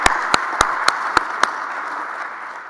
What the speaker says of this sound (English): Let's give Donovan Lewis a great round of applause.